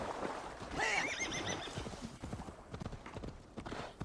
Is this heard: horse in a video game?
yes